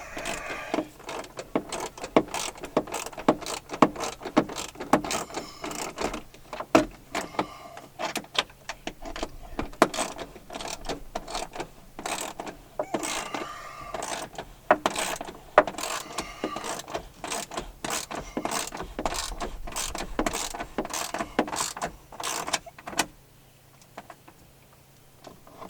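A ratchet works a bolt loose during a dash replacement on a 2006 Jeep Wrangler TJ, giving repeated close clicking strokes in bursts with brief pauses, the strokes fading near the end.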